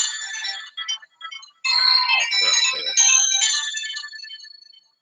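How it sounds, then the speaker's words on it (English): A phone notification tone chimes loudly in bright, tonal bursts, a few short blips at first and then a sustained melodic jingle that fades out after about five seconds, with no talking over it. "The notification on my phone."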